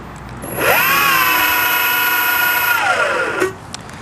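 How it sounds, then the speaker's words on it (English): A small UAV's electric motor, run from a manual transmitter, spins up with a rising whine, holds a loud steady tone for a few seconds, then winds down and stops. "Even the motor can turn on."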